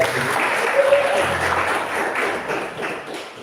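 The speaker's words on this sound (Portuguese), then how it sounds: "Uma salva de palmas." Congregation at a church service claps together in a loud, close, sustained round of applause, with a voice faintly audible under the clapping.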